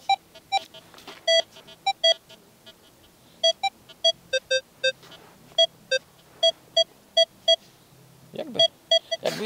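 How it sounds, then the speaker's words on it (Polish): A metal detector sweeping a Baltic beach at Stegna sounds a low, broken target signal: a steady series of sharp electronic beeps in irregular bursts, fairly loud and close, with no speech. "Dosyć głęboki sygnał. ID 40 takie łamane."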